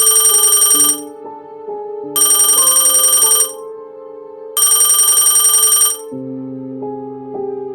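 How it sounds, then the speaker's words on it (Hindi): A telephone bell rings in three loud bursts of about a second and a half each, with short pauses between them, over a soft sustained musical background, in a quiet police station setting from a Hindi horror story. "तभी अचानक फोन की घंटी चीख उठी।"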